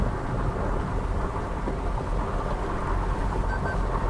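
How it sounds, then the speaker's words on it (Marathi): Steady rain drums on a car during a drive toward the Parshuram Ghat road between Mangaon and Chiplun, a dense continuous wash with low rumble throughout and no talking. "पाऊस बघा येतोय जातोय"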